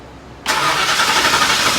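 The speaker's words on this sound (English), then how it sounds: "So let's fire this thing up, man." A 2010 Ford Mustang GT V8 fires up abruptly after a quiet lead-in, then settles into a loud, steady, broadband engine roar that fills the rest of the moment without talk.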